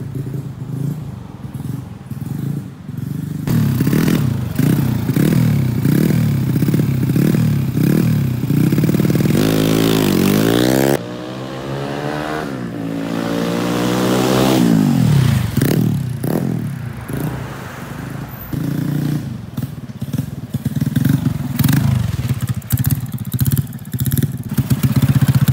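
A modified Yamaha Jupiter Z motorcycle engine, bored up to 200cc, revs loudly and repeatedly, rising in sharp bursts of throttle with rattling idle between, close up and with no talking.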